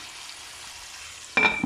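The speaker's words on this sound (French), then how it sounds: "ma viande est en train de dorer tranquillement" Rabbit meat browns in a pan with a soft, even frying hiss. Near the end a louder burst of sizzle and clatter breaks in, likely the pan being uncovered or stirred. No one speaks.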